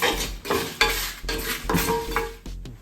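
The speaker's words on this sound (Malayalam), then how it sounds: "നമുക്കിത് ഫുൾ ടൈം ഇളക്കിക്കൊണ്ടിരിക്കാം കേട്ടോ." Masala for crab theeyal is stirred and roasted in a pan, a spoon scraping in steady repeated strokes over a continuous close sizzle of frying spices.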